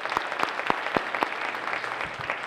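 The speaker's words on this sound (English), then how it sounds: "one round of applause for Director Dakin" Audience applause at a science of reading summit in Cleveland: steady clapping from a room of people with some sharp individual claps, even in level and close, with no voices over it.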